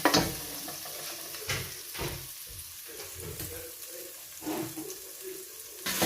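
Manioc flour batter fries in oil in a pan. The sizzling is close and crackly, with several surges and a stirring or splashing texture in between.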